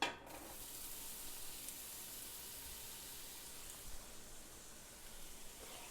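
Onion and red pepper frying in melted butter for corn chowder, giving a steady, even sizzle that holds close and constant with small bursts of crackle, no voices over it.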